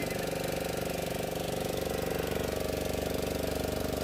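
A boat engine drones steadily, a continuous hum with a rapid regular chugging pulse, loud and close, with no voices, on a boat trip near Puri.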